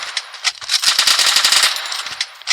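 A P90 submachine gun fires in the Free Fire video game, loud rapid bursts of gunfire with quick repeated shots rattling close and crisp, one dense volley in the middle flanked by shorter bursts.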